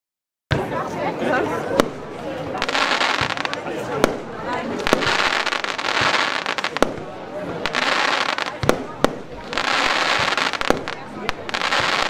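Category 4 Pyrocentury 100-shot fan cake fireworks firing at a night show, a continuous barrage of crackling bursts with sharp thuds spaced through it, loud and steady over a faint murmur of a crowd.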